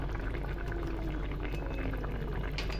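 A pan of raw mango launji sweetened with jaggery simmers uncovered, bubbling steadily and close up with a thick, gentle sputter and no voices.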